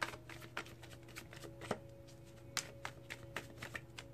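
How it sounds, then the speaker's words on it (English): Tarot cards are shuffled close by in soft, irregular riffling taps and flutters over a faint steady hum, with no voices. "I'm going to stop the shuffle soon"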